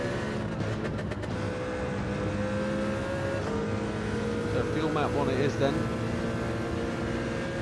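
A Mercedes CLK race car in Gran Turismo 7 drones steadily on the Sardegna Road circuit, its engine note holding at an even, loud level throughout while someone talks over it.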